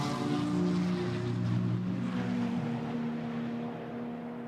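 GT4 race cars accelerate at Monza toward the Variante Ascari, a rising engine note sweeping past at moderate distance, then a second car's drone settling into a steady pitch as the sound fades slightly.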